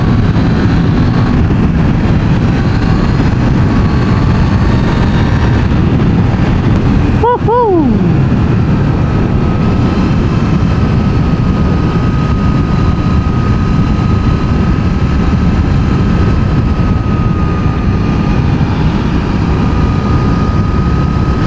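Suzuki GSX-8S motorcycle engine revving hard at high RPM in fourth gear, a loud continuous roar under heavy wind noise, with a brief pitch drop around a gear change partway through.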